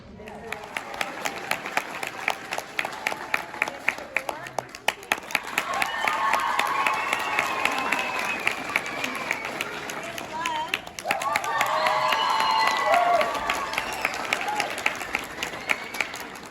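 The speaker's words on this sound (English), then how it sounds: "Let's give them one more round of applause." An audience at a school children's performance claps and applauds continuously, a dense patter rising in waves, with someone talking over the clapping now and then.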